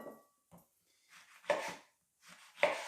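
A knife slices through washed lemons and oranges, rind on, into rounds on a board. Three or four separate cuts land at irregular intervals, the later strokes louder and crisper, close up and with no talk.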